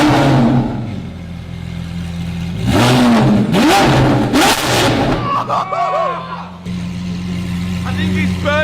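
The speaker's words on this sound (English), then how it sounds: "see if it'll rev a bit" A Lamborghini fitted with a newly installed exhaust revs hard in two loud surging bursts after a low idle, then settles back to a steady rumble while people talk and exclaim nearby.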